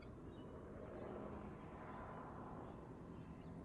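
A helicopter in Project Zomboid drones steadily overhead in the distance. The constant low rumble holds its level throughout, and no one speaks.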